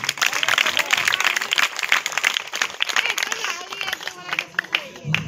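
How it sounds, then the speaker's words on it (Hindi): Church audience bursts into thankful applause, many hands clapping densely and fairly close for several seconds, with some voices mixed in beneath the clapping. "ताली बजा के धन्यवाद"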